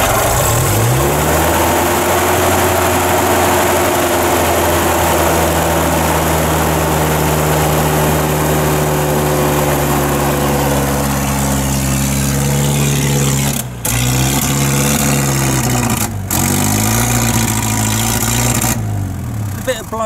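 An abandoned Land Rover engine turns over, catches and runs steadily, loud and close, with a deep continuous drone and pitch shifts as it revs, while people talk briefly nearby.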